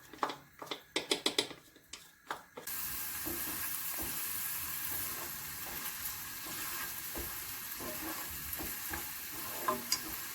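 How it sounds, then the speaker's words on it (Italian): Celery, carrot and onion frying in extra-virgin olive oil for homemade arancini, a steady close sizzle after a few stirring clatters at the start, continuing unbroken without speech. "un po' d'olio extravergine. Facciamo soffriggere il sedano,"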